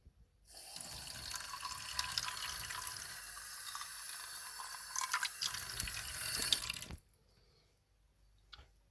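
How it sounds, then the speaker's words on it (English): Running water splashes steadily from a tap into a pan of oats for several seconds, close by, then cuts off abruptly, leaving near silence. "give some drops of water on it"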